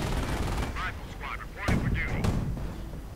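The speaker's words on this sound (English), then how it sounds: "Armored cars blasting away at the rifle and sending them quickly off." Armored cars in a World War II strategy game firing on riflemen, with bursts of gunfire and heavy shots over a steady battle din. A narrator talks throughout.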